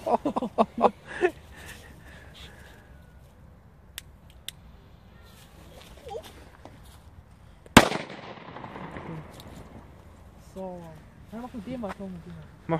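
New Year's Eve firecrackers, including Funke Donnervogel, go off outdoors: several sharp pops early, a single loud close bang midway, and crackling bursts between excited voices talking and shouting.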